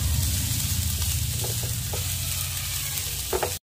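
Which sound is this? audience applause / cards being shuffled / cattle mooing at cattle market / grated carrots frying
grated carrots frying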